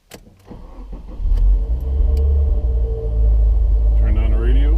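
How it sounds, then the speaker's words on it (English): A 2016 Subaru WRX with a CVT cranks briefly and catches, then settles into a deep, steady idle rumble heard close up. "let me go ahead and start this car actually"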